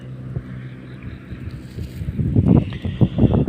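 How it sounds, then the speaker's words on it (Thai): Strong wind blows across open ground in a rural Isan village in Thailand, gusting louder over time and buffeting the microphone with heavy low rumbles and flutter. "ลมพัดว้อยว้อยเลยพี่น้องนะครับ"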